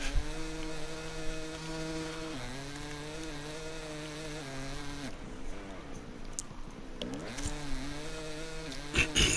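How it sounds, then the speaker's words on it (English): Two-stroke racing motorcycle engine on an onboard lap, screaming loud and close with a buzzy, rising and falling pitch as it shifts through gears, dropping off around a corner and then climbing back up. "Listen to that 2-stroke hangout"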